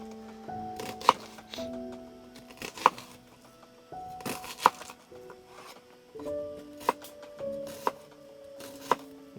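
Knife chopping carrot and onion finely for a quick travel borscht at an outdoor camp, a steady series of soft close taps on a board with occasional sharper knocks, faint and alone.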